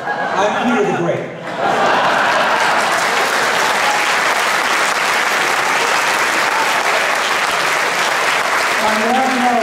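Lecture-series audience breaking into sustained applause after a brief spoken line, a loud, even roar of many hands clapping that carries on steadily for several seconds.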